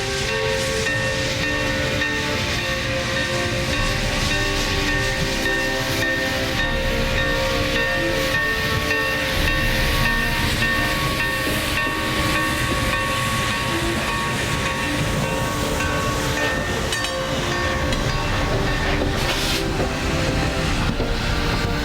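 Challenger steam locomotive rolling along the rails, a steady loud rumble with hissing and a faint rhythmic clatter throughout, no talking.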